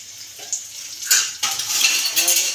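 A spoon stirs a date pak mixture with raisins and nutmeg powder in a metal pot, loud close scraping and clinking strokes that grow busier toward the end, with no talk.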